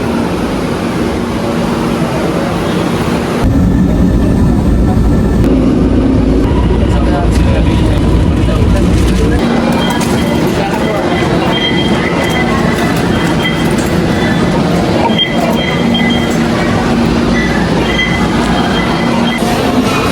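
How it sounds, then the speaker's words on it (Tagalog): MRT train riding on the rails in Manila, a loud continuous rumble with rattling and rail noise heard from inside the car, with voices in the background. "Pasakay na tayo ng MRT."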